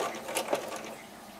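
A home sewing machine stitches slowly around the curved edges of small doll mittens, giving a faint, soft mechanical whir with a few light clicks in one short stretch.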